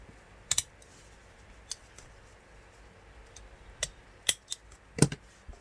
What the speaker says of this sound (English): Staple it to hold it down.